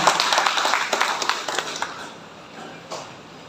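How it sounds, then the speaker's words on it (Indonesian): Applause from a crowd at a community association work meeting, a brief scattered patter of clapping that thins out and fades within a couple of seconds. "Tepuk tangan buat kita semua."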